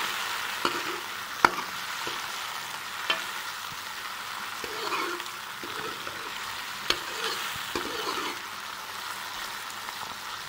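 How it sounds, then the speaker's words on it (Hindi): Tinda (Indian round gourd) and tomatoes fry in a pot, a soft continuous sizzle with occasional clicks and scrapes of a spoon stirring, fairly quiet and close, no voices. "मैंने इसके अंदर टमाटर शामिल कर दिए हैं और अब मैं इसे फ्राई करूँगा"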